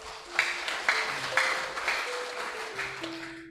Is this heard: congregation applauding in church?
yes